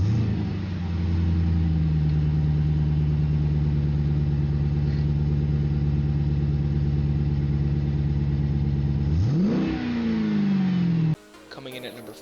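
A car with a 740 horsepower Hemi engine runs loudly and steadily with a deep, rumbling drone, then revs up sharply near the end before cutting off abruptly.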